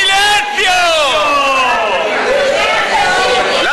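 Angry former bank shareholders, a crowd of savers, shout and clamour loudly in a building's entrance hall. Many raised voices overlap in a sustained, close uproar with no pause.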